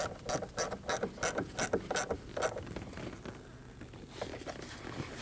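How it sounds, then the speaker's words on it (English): A ratchet tightening a 10mm nut on a car battery terminal of a 2013-2019 Ford Escape, a quick run of evenly spaced clicks up close, then quieter scraping and handling. "Take a positive terminal, slide it over the post, and tighten your 10mm nut."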